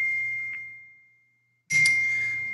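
A phone notification chimes twice, a clean ringing ding that fades away, then after a brief silence a second sharper ding arrives over a low background hum.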